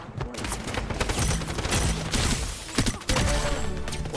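Gunfire in the video game Strinova, a dense, loud barrage of rapid shots and crackling impacts that runs nearly without pause, with a brief break before the shooting resumes.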